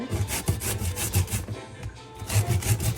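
Coconut being grated on the shredder side of a hand grater, giving a steady run of loud, close, rhythmic rasping strokes in quick succession, with no talk.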